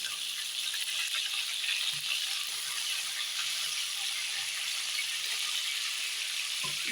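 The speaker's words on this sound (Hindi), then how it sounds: "इसमें आलू भी मैं एक साथ फ्राई करूँगी। थोड़ी देर और फ्राई कर लूँ पहले फूलगोभी को।" Cauliflower and potato frying in oil in a pan for a fish curry, a constant close hiss and sizzle with occasional soft stirring knocks.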